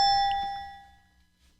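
A single bright ding rings out from a quiz buzzer bell during a live game-show style broadcast, then decays slowly into near silence. The ring is clear and alone, with no talking over it.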